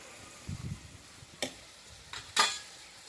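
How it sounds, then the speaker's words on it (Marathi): Turmeric and spices stirred and dry-roasted in a pan for a Maharashtrian potato bhaji, giving a few soft scraping stirs and two brief brighter scrapes against the metal, fairly quiet with no talking. "हळद चांगलं हलवून घेऊ चांगलं भाजून घेऊ"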